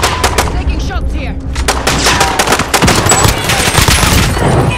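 Rapid gunfire in the video game Call of Duty: Warzone, loud, sharp shots in quick bursts and fast strings, crackling one after another for the whole stretch.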